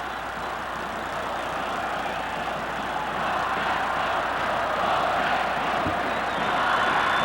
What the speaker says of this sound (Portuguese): E é uma festa da torcida do Vasco.